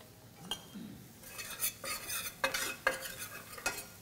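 A bean mixture seasoned with chili powder and cumin cooking on medium-high heat, with a utensil stirring and clinking against the pan in sharp knocks over a faint sizzle, no talking.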